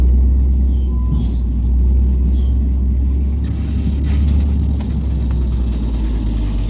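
Vehicles rolling off the ro-ro ferry at Vypin after the Fort Kochi crossing, a steady low engine rumble close by with occasional revving, continuous throughout.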